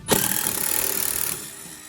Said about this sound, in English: So here, let me drill this hole.